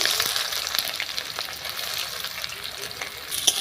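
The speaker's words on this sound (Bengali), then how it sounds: "এবার আমি বেরেস্তা ভেজে নেব বিরিয়ানির জন্য" Onions frying in oil to make crisp beresta for biryani, a steady bright sizzle and crackle close by with occasional pops, heard on its own.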